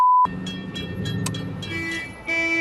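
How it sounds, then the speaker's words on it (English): A short beep cuts off, then a car horn wired into the indicator blares in a sustained tone amid clattering noise on a test track, returning louder at the end. "you've wired my horn into my indicator"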